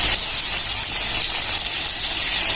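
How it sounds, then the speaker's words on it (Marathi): Bitter gourd (karela) slices frying in hot oil give off a steady, loud, close hiss and sizzle that stays constant throughout, with no talking. "जेवढे बसतील तेवढे कारले घालून घ्यायचे इथं छान असे तळून द्यायची"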